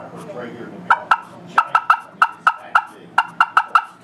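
A hunter's turkey call imitates an excited hen cutting, sharp loud clucks fired in quick irregular bursts of about a dozen, close and clear after a brief quieter opening.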